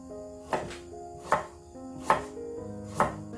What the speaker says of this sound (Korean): 생강도 이렇게 썰어가지고 넣겠습니다